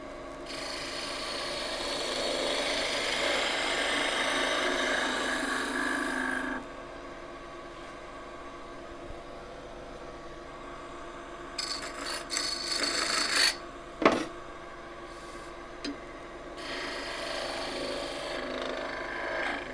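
Hand sanding of a softwood block with abrasive paper wrapped around it: a steady rasping rub for the first several seconds, then quieter, intermittent scraping strokes with a few sharper bursts.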